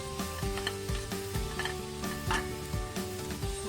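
Chapati and chicken kothu mixture sautéing in a pan, a soft sizzle under repeated scraping and stirring strokes of a spatula in a steady rhythm.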